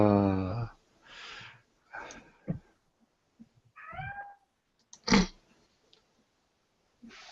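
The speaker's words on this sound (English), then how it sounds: "The cat is calling you weak." A cat meows several times in short separate calls with pauses between, fairly close, in a room where people are gathered for a tabletop role-playing game session.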